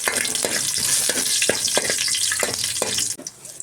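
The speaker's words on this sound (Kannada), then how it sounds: "ಸ್ವಲ್ಪ ಕರಿಬೇವು ಹಾಕ್ಕೊಳ್ತಾ ಇದ್ದೀನಿ. ಹಾಕ್ಕೊಂಡು ಒಮ್ಮೆ ಮಿಕ್ಸ್ ಮಾಡ್ಕೊಳ್ತೀನಿ ನಾನು." Curry leaves fry in hot oil in a pan for a spinach gojju, a loud steady close sizzle broken by repeated scraping stirs, the hiss dropping away near the end.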